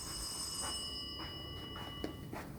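A telephone rings indoors with a thin electronic trill, repeating in short regular bursts at moderate loudness over a faint background hum, with no talking.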